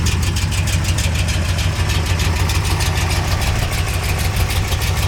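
A rebuilt big-block V8 in a 1971 Corvette, built to about 475 horsepower, idles steadily up close with a deep, loud, even rumble and a faint rhythmic lope throughout.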